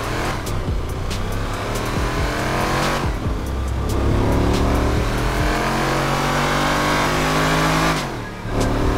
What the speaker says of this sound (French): Vous l'entendrez sûrement au son du moteur.